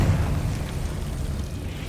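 A Confringo fire spell blast in Hogwarts Legacy gives a short, low booming burst that quickly fades into a rumbling tail.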